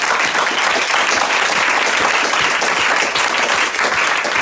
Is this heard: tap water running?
no